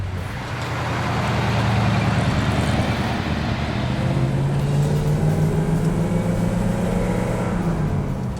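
A 1960s Buick Riviera custom's glasspack muffler exhaust rumbles with a deep, throaty burble, rising and falling as the engine revs, heard from inside or close by.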